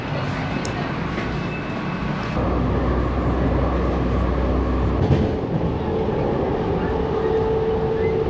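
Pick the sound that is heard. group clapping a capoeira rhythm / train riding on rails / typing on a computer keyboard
train riding on rails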